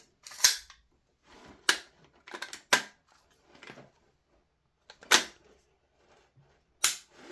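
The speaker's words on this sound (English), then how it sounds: "we'll give it a quick test fire" A customised Tokyo Marui MWS M733 gas blowback airsoft rifle test-fires several separate sharp cracks with a short double shot among them, close and loud against a quiet background.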